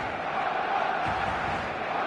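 Stadium crowd noise in the eFootball video game, a dense sustained roar of many voices building slightly in the middle, steady and moderately loud with no distinct talk.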